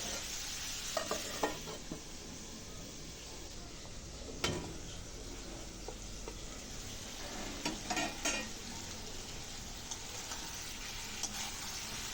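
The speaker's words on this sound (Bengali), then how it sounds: "এর মধ্যে আমি ডাটাগুলো তুলে দিলাম দিয়ে একটু হলুদ আর লবণ দিয়ে ডাটাগুলি সহ আরও একটু ভালো করে কষিয়ে নেবো" Vegetable stems and potatoes with turmeric and salt sauté in a pan under a steady close sizzle, with repeated spatula scrapes and knocks scattered through.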